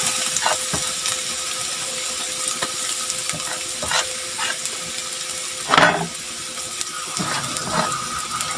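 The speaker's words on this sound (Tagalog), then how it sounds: "Lagay ko na ang bawang." Garlic sizzling and crackling in hot oil in a pan, a steady close fry hiss with occasional stirring scrapes and clinks, no talk.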